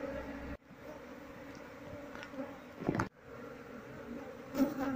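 Honey bees from a colony being moved into a wooden hive box for honey farming hum steadily in a continuous drone, with a few louder passes of individual bees close by and brief handling knocks.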